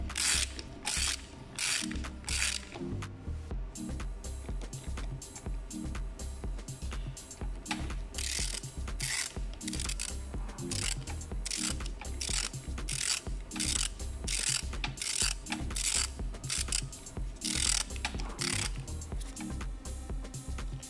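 A Bock FK40/FK50 AC compressor shaft turned by hand gives a steady run of close, loud mechanical clicks and ratcheting ticks in a regular rhythm, with no talk.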